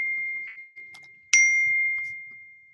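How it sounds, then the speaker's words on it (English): A phone gives text message notification dings, a bright tone with a long ringing tail, then a second louder chime, close and clear in an otherwise quiet room. "Getting text messages left and right."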